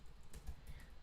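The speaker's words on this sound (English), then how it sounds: "And now we can just start typing" Typing on a computer keyboard during a live coding session, quiet, scattered key clicks over a faint low background hum, no voices.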